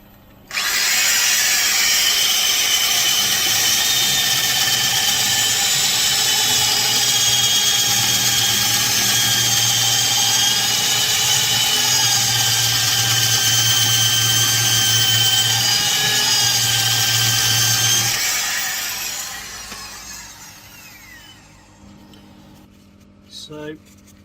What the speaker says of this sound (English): lots and lots of sanding.